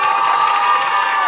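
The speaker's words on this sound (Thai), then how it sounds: "ขอเสียงปรบมือให้กับคุณคิมซูยอน" Fans at a press conference for Kim Soo Hyun's Asia Tour in Bangkok cheer and shout in a steady, loud crowd roar with applause mixed in, with no pauses throughout.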